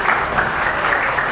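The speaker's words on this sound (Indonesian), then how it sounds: "Tepuk tangan dong untuk PKB." Brief burst of audience applause at a political discussion forum, a dense wash of clapping at a steady, fairly loud level with no voices over it.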